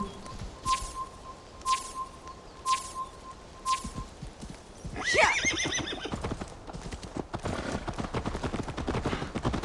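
Hooves clip-clop in a steady rhythm from a horse in Assassin's Creed Valhalla, then a loud, shrill neigh breaks in midway, followed by busier shuffling and movement noise.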